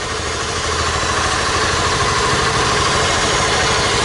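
A 2011 Honda Titan 150 flex-fuel motorcycle engine idles steadily and loudly with no speech, its fuel pump recently replaced after low pump pressure caused a fault.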